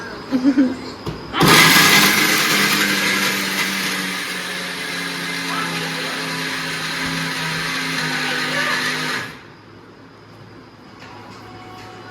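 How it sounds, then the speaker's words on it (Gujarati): A mixer grinder whirs loudly and steadily for about eight seconds while grinding laddoo mixture, then cuts off sharply, leaving a quiet room with no talk. "લાડવા બનાવવા મિક્સરમાં કાઢવા હાટુ આ બે ઉતાવળા"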